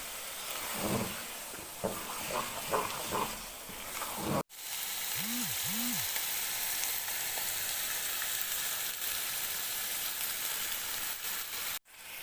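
Grated carrots with sugar sizzle steadily in ghee for gajar ka halwa, a continuous loud frying hiss with a few soft stirring scrapes near the start and brief breaks in the sound.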